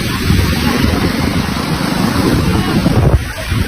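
The flooded Bhima river runs fast, its loud, continuous rushing roar heard close up, mixed with buffeting wind against the microphone.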